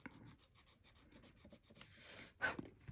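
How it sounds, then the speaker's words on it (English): Repeated scratchy rubbing strokes of a sanding stick on a painted scale model car part, close and rhythmic, with a louder rasping burst near the end. "this actually helps us get a nice flat surface too with the sanding stick"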